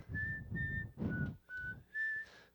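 A person whistles the tune of a song in several short clear phrases with brief pauses between them, close and fairly soft.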